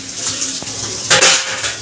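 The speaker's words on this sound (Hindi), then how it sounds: "रगड़ रगड़ के बर्तन धो रहा है।" Dishes being washed at a sink with running water, with a broadband splashing and scrubbing wash throughout, a soft clink near the start and a louder burst of water and clatter about two-thirds through; no talking.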